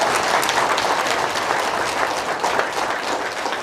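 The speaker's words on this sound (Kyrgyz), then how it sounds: "Шунусу үчүн бир кол чабып рахмат айтабычы." An audience applauds steadily in a hall, a dense, even wash of many hands clapping at a constant level from start to finish.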